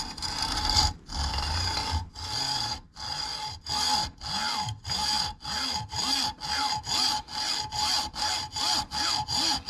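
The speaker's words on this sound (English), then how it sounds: "let's go put this in a vise and cut 3 inches off" A hand saw cuts a tent pole clamped in a vise, making steady back-and-forth rasping strokes that speed up to a regular rhythm, close and loud, with no talking.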